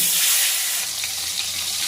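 A hilsa fish head frying in hot oil in a kadai, a loud, bright, hissing sizzle that is strongest at the start and then settles into a steady crackle, no voices.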